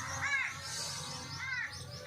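A crow near its nest in a date palm gives two harsh caws, spaced about a second apart, fairly faint over a soft background hiss.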